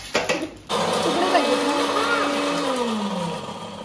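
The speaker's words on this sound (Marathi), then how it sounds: "मी मिक्सर लावते, आवाज होईल." After a brief start-up noise, a kitchen mixer grinder runs loudly and steadily, its whirring motor drone sliding slightly lower toward the end.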